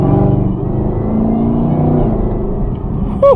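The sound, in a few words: Chevrolet Camaro ZL1 engine accelerating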